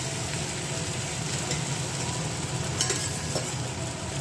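Potatoes stir-fry in hot oil in a pan for Bengali egg kosha, giving a continuous close sizzle with occasional scraping and stirring clatter and no talk.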